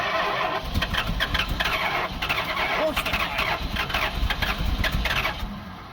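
A carbureted 1969 Chrysler 300 V8 cranks and catches, then runs with a rough, loud, steady rumble close by for the whole stretch.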